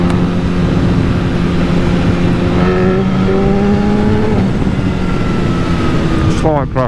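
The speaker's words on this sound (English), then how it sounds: "Slight crack of the throttle" A BMW HP4 motorcycle on a commute, its engine droning steadily as the throttle is cracked open, with a rising whine partway through and a closing burst of revs, loud and close.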